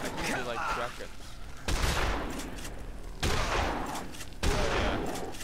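Shotgun blasts in the zombie game Dead Island, three loud booming shots spaced about a second and a half apart, with game noise and a voice talking underneath.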